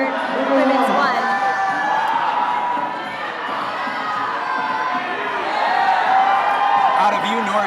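A crowd cheers, whoops and shouts at a USA Climbing National Cup bouldering competition, loud and sustained with swelling waves of excitement, easing in the middle before surging again, with a commentator talking over it.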